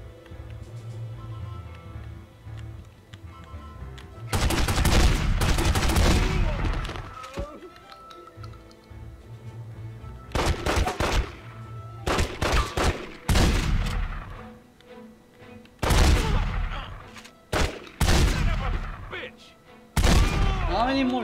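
Gunshots ring out in The Godfather video game, coming in loud, sharp bursts and volleys with short quiet gaps between clusters of shots.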